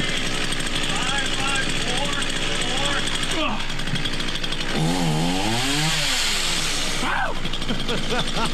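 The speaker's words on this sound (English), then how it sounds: "I don't know why the guy said lawnmower, because it was a chainsaw" A running chainsaw balanced on a man's chin, its engine droning loud and continuous throughout while excited voices shout and cheer over it.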